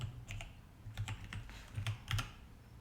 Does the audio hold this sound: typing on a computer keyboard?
yes